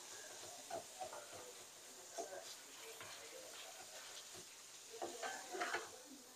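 Fermented durian paste (tempoyak) sizzles in a frying pan as it is stirred, a constant hissing fry broken by soft scraping strokes and a few louder clatters near the end, with faint talk in the background.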